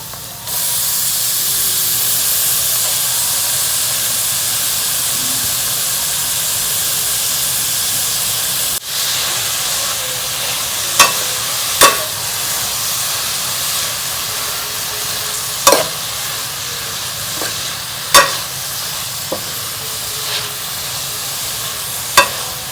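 Finely chopped spinach fries in hot cooked masala for dhaba-style palak paneer, giving a steady, loud sizzle and hiss throughout, with sharp scrapes and clinks of a stirring spoon against the pan arriving in the second half.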